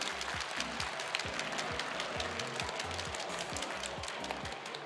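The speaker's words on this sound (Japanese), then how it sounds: "吉方ペア、ゆり選手、かえで選手にも大きな拍手をお送りください。" A crowd at a Nintendo Live 2022 Nintendo Switch Sports tournament applauds steadily and evenly, with low music pulsing underneath throughout.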